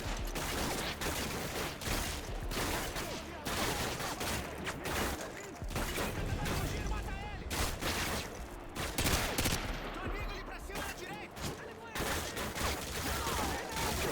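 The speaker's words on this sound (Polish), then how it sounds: "Dobra, dalej strzelają" Call of Duty: Modern Warfare 2 gunfire crackles nonstop in a dense firefight, rapid overlapping shots and bursts from several weapons filling the scene with loud, sustained fusillade.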